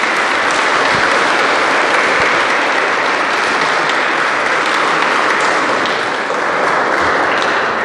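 Sustained applause from a church congregation, dense and steady throughout, loud and close with no voices over it.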